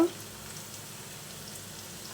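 Garlic and cumin paste sizzles in oil with fried onions for a chicken curry with potatoes and drumsticks, a steady, even hiss that holds at a moderate level throughout.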